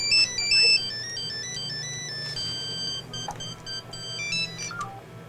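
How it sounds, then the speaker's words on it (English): Mobile phone ringtone going off, a bright electronic melody of quick repeated beeping tones, fairly close, with faint background noise and brief clicks. "his phone went off"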